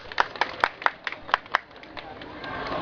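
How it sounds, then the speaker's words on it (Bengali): An audience claps in a short burst of about eight sharp, fairly close claps over roughly two seconds, thinning out into scattered faint taps, with a murmur of voices underneath. "সবাই হাততালি দেন, হাততালি দেন।"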